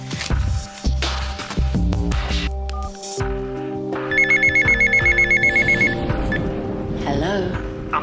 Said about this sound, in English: I'm sorry to phone you so late, Mrs. Winterbourne, but I'm afraid that the